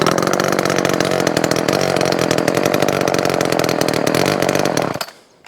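A Homelite LX30 Bandit chainsaw engine runs steadily at a fast idle while warming up on half choke, loud and close with a dense rattling buzz, then cuts out abruptly near the end.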